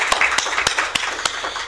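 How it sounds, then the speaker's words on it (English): An audience at a panel discussion on wartime social memories bursts into applause, a dense, steady patter of many hands with a few sharper individual claps standing out, sustained throughout without talk. "And I would say we have a clap now"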